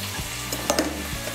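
Cut paneer pieces sizzle in hot oil, a steady close frying hiss with a few sharp crackles and spatters partway through.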